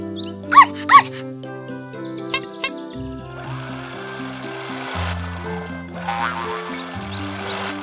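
A cartoon puppy gives two sharp little yaps near the start, followed by softer squeaky vocal sounds over light background music, with no speech.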